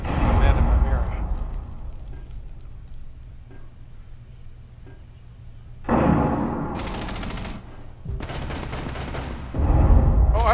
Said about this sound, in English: Someone just blew open this window.